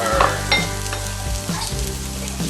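Onions, garlic and ginger frying in a pot for a West African chicken stew, a steady loud sizzle with occasional stirring scrapes, close and continuous without talking.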